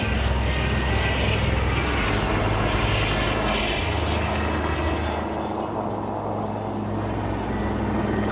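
Indian Sarang display helicopters and Surya Kiran aerobatic jets flying together at an air show in Bengaluru, a steady loud engine roar with throbbing rotor tones that swells and then eases slightly, with no talk.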